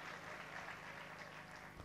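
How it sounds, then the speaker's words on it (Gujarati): Applause from an audience gathered at a Mahabharat katha, welcoming the swami; a steady, faint wash of clapping with no break across the short stretch. "એકવાર જોરદાર તાળીઓથી આપણે પૂજ્ય સ્વામીને વધાવીશું"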